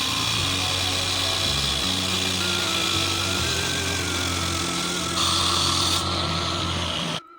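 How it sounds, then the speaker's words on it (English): A power tool cuts all-thread rods to length in a garage during BMW X3 differential bushing work, a loud, steady whirring drone with a harsher rise near the end before it cuts off abruptly. "Now we're gonna cut the all threads to the length that we need."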